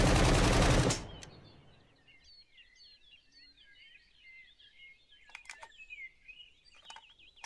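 A rifle in the survival video game SCUM fires a loud, dense burst of shots lasting about a second, then gives way to a quiet outdoor backdrop of chirping birds.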